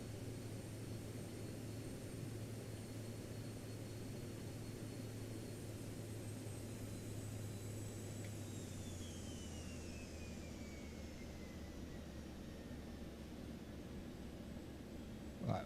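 A small jet, the Vision Jet, lands in the X-Plane 12 flight simulator. A steady, quiet engine hum and airflow roar run throughout, and the engine pitch drops gradually partway through as power comes back for touchdown.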